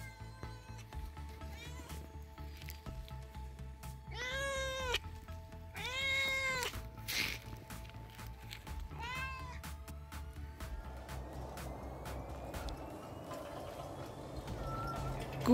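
A pet cat meows in a home setting, three clear drawn-out calls in a row followed by quieter background rustling and a faint running hiss.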